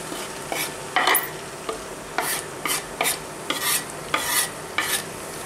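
Vegetables for a potato dish fry in a pan under a low sizzle, while a spoon scrapes and stirs in repeated short strokes, close and fairly loud.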